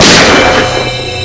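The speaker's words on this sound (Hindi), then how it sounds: "सर गोली चलने की आवाज?" A single loud gunshot close by, a sharp bang that rings out and decays into a fading echo.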